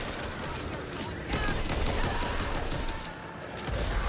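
Rapid bursts of gunfire against hordes of zombies in the co-op shooter Back 4 Blood, dense crackling volleys that continue throughout with game sounds layered in.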